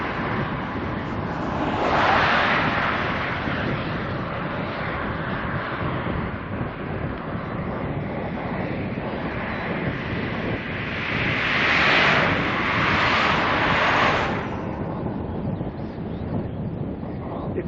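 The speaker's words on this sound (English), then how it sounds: "It's a bit windy out here." Wind blows outdoors while cycling in Denmark, a continuous rushing roar over the microphone that swells into stronger gusts early on and again later.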